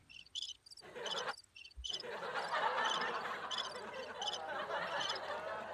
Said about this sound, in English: We're hearing crickets, right?